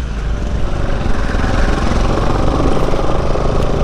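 A Bajaj Pulsar NS200 motorcycle engine runs steadily and loud on a long road ride with several riders, a constant close-up drone with rushing wind noise and no pauses.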